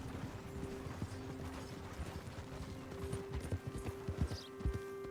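Horse hooves clip-clopping at a steady trot while riding in Red Dead Redemption 2, moderately close with a soft rhythmic beat and faint creaking tack, over a quiet background hum.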